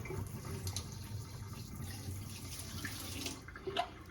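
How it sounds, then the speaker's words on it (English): Water pours steadily from an electric kettle being cleaned of calcium buildup, a soft continuous splashing trickle close by that swells slightly near the end. "I'm gonna open the lid and I'm gonna pour some out"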